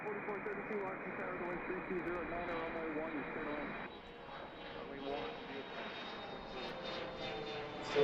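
A CRJ regional jet at Reagan National Airport rumbles steadily, its broad engine roar running through the whole stretch before easing slightly and carrying on with a thinner whine.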